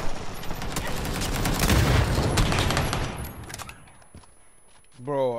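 Rapid bursts of PUBG gunfire crackle loud and dense for several seconds during a close fight where a grenade was thrown, then fade to scattered quieter shots before a voice speaks at the end.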